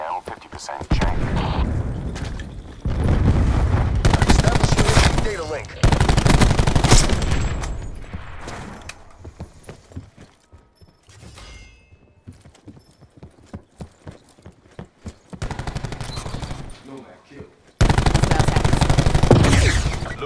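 Video game gunfire and cluster grenade explosions in a Domination match on the Hacienda map, heard as loud bursts of rapid shots and booming blasts that come and go, with voices talking between them.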